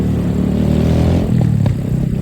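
A scrambler-style motorcycle rides close by on a Philippine road, its mid-pitched engine running loud and steady, swelling briefly as it passes amid general traffic noise.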